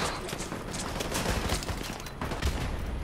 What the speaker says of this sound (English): Where are you getting shot from?